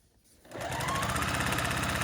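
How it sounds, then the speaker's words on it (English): A sewing machine stitches a quarter-inch seam on a Christmas string quilt, starting after a brief quiet moment and settling into a fast, steady, close whir that runs on uninterrupted with no talk. "Sew across here using the 1/4 inch seam allowance."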